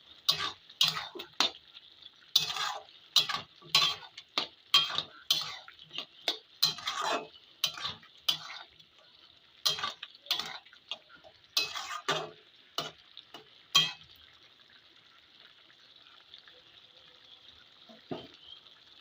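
Beef curry cooked down to a deep red with a homemade secret spice blend is stirred in a pan: a close series of uneven scraping and clattering strokes, then a steady soft sizzle left simmering alone.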